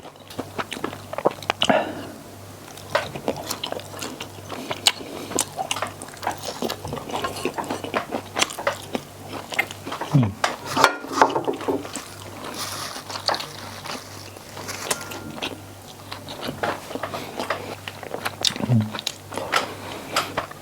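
Close-up chewing and biting of salmon summer rolls and grilled pork neck with spicy seafood sauce: repeated wet crunches and smacking bites through the stretch, with occasional soft speech between mouthfuls.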